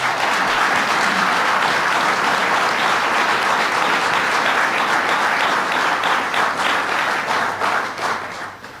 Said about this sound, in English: Let's give Anne a round of applause.